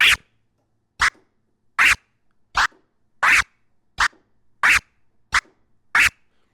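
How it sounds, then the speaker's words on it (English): A DJ performs chirp scratches on a turntable, using the crossfader to cut each pull, giving nine sharp, bright, clipped bursts at a steady pace separated by near silence. "with our chirp scratch, we're pushing forward while we're closing the crossfader"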